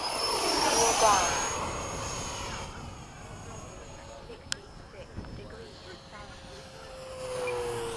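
A jet engine on an F-5 fighter during a formation landing approach, a loud whine and rushing roar that shifts pitch and eases, with a voice talking over it.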